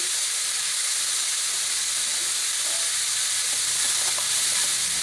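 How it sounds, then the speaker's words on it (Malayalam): Vegetable paratha filling with Kashmiri chili powder, garam masala and coriander powder sautéing in a pan, a steady close sizzle and hiss with faint stirring scrapes, no talk. "ഇതെല്ലാം കൂടിയിട്ട് നന്നായിട്ട് വാട്ടിയെടുക്കാം."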